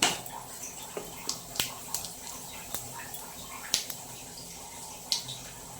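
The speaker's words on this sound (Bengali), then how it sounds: "আর একটু সর্ষের তেল দিলাম, জিরে ফোড়ন দেব, একটু গোটা জিরে" Whole cumin seeds crackle in hot mustard oil for a potato curry, giving faint, scattered sharp pops over a low, steady sizzle.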